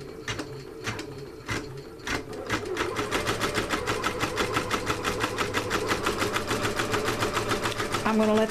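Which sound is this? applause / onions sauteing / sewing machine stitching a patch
sewing machine stitching a patch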